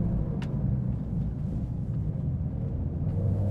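A Porsche 992 GTS engine revving hard near red line, a loud, dense, continuous low rumble from inside the car that holds steady throughout with no speech over it.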